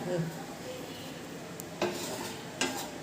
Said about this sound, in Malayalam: ഇനി ഇവനെ നമ്മൾ ഇളക്കും